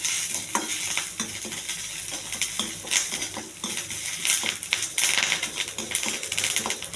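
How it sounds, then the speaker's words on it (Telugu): Dried red chillies, mustard seeds and curry leaves fry in a pan with a steady crackling sizzle, punctuated by scraping stirs and sharp pops, close and fairly loud without talk. "ఎండుమిరగాయలు ఇలా వేయించుకోవాలండి."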